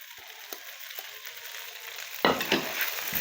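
Chicken and vegetables for chow mein being stirred in a hot pan, with a faint background sizzle under a few soft scrapes, then louder rhythmic scraping and clatter near the end.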